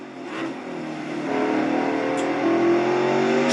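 A Nationwide Series stock car at Mid-Ohio drops into second gear, its engine note a loud, close, sustained roar that shifts pitch and climbs again as it powers off the turn.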